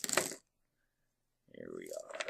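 Dice rattle and tumble across a tabletop during a One Deck Dungeon board game, a short clattering burst, then a gap of silence before a longer stretch of rolling mixed with a voice.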